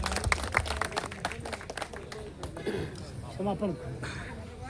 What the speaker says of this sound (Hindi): मैं चाहूंगा कि आपके लिए जोरदार ताली से स्वागत किया जाए।